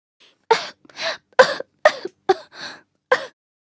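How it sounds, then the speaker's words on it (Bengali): Snow White coughs loudly and repeatedly, about seven sharp, close bursts in an uneven rhythm with brief pauses between them. "স্নো হোয়াইট হঠাৎ জেগে উঠল আর জোরে জোরে কাশতে লাগলো"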